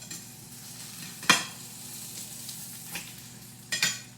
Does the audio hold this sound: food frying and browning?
yes